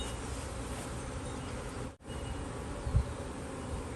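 Honeybees swarming in an urban garden give a dense, steady buzz throughout, with many insects humming together close by and a brief dip near the middle.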